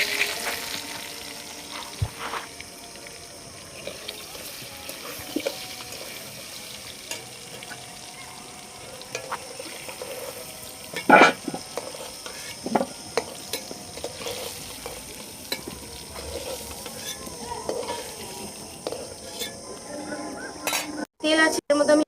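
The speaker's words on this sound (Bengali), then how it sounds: "এবার আমি আলুটাকে ভালো করে নাড়িয়ে চাড়িয়ে তুলে নেব" Fried potatoes for a Bengali chicken curry are turned in a pan, with intermittent spatula scrapes and clinks over a soft, low sizzle, close by and fairly quiet.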